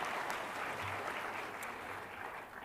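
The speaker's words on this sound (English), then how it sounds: "I feel like that should be a round of applause." A convocation crowd applauds with sustained, even clapping that fills the space, heard from a distance and slowly easing toward the end.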